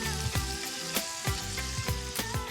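Calamari, tentacles included, sizzles loudly in a pan with tomato, a steady crackling fry broken by several sharp clinks of a utensil against the pan.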